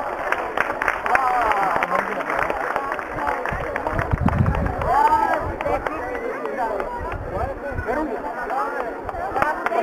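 Applause from an audience at a Bulgarian school award ceremony, steady dense clapping running throughout under a presenter's amplified announcement and crowd chatter.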